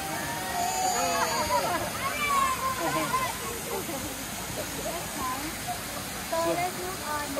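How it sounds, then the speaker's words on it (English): Punyaban Waterfall in Ranong, Thailand, rushes with a constant broadband hiss beneath lively, overlapping voices of children and adults talking nearby throughout. "We just had to see this waterfall."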